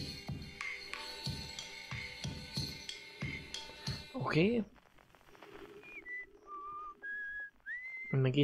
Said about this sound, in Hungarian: Fütyül.